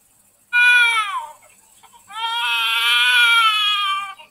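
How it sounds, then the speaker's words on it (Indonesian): Newborn baby crying as a sound effect in a nativity story for a children's Sunday school, two loud, close wailing cries with a short pause between them, the second one long and sustained. "Itu suara bayi yang sedang lahir."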